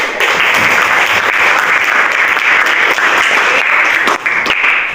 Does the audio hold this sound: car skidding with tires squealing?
no